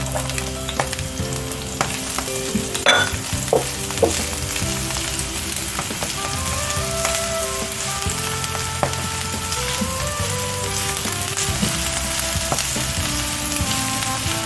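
Chopped onion frying in a pan for a chicken pie filling, giving a steady, dense sizzle that runs unbroken from start to finish.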